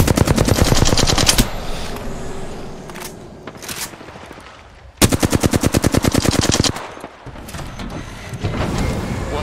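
Rapid automatic gunfire from an Apex Legends firefight, loud bursts of rattling shots at the start and again in the middle, with quieter distant shots and game noise between them.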